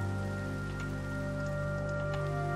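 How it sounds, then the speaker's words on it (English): Steady rain falling in the Minecraft Vault Hunters modpack, a continuous soft patter of drops over a low droning game ambience, with no voices. "I know I can sleep away this rain"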